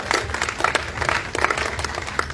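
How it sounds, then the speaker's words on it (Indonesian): Audience applause at a film promotion event, a close, loud burst of many hands clapping with uneven peaks and a little crowd murmur beneath. "Boleh dong kasih tepuk tangannya lagi untuk film Gampang Cuan."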